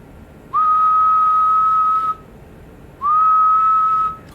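Two long, steady whistled tones into a microphone on a Stryker 447 radio, each held about a second and a half, separated by a short pause, loud and close with a faint hiss beneath.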